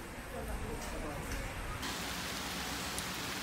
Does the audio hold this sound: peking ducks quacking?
no